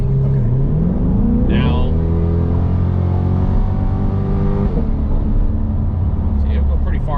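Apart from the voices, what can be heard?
Chevrolet C8 Corvette 3LT accelerating in sport mode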